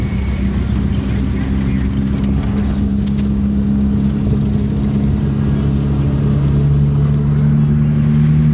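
Steady road traffic drones from inside a vehicle in slow, congested traffic, a continuous low engine hum with a strong tonal rumble that holds throughout, while people talk over it.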